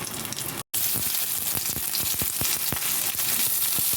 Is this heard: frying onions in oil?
yes